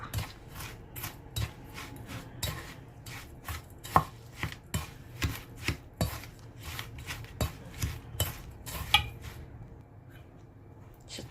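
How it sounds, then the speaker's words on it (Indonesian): A spoon or spatula stirs a cheesecake bar batter with nuts in a bowl, making regular scraping strokes about twice a second, fairly quiet, that fade out near the end. "Kita aduk sampai merata."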